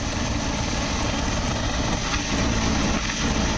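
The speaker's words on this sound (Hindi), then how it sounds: "प्रशासन ने हेलीकॉप्टर से यहाँ पुष्प वर्षा की।" Helicopter flying over Kanwar pilgrims and dropping flower petals on them, a loud, steady whirring engine and rotor roar that never stops.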